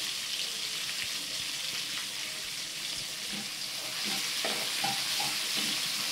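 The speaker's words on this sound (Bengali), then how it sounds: "এবার এই তেলের মধ্যেই আমি জিরে, গোটা গরম মশলা, দুটো শুকনো লঙ্কা, দুটো তেজপাতা ফোড়নে দিয়ে দেবো" Cumin, whole garam masala, two dry red chillies and two bay leaves tempering in hot oil, making a continuous bright hiss with faint crackles that grow a little busier toward the end.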